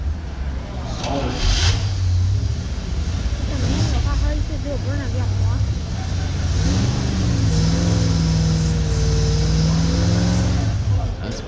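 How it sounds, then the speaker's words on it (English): A car engine revs hard and nearby during a burnout contest while the clutch burns. The roar is rough and wavering, with pitch climbing and sagging toward the end and noisy bursts scattered throughout. "That's burning the clutch and stalled."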